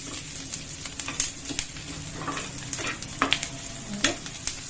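Onions and crushed garlic fry in a pan for ridge gourd sambar, a soft steady sizzle punctuated by irregular scraping stirs and light spatula knocks against the pan, close by.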